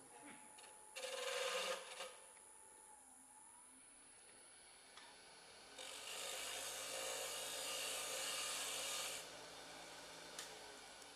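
A hand gouge cuts and scrapes into a wooden cabriole leg in a workshop. Steady rasping strokes come close and moderately loud, with a longer sustained cut near the middle and no talk.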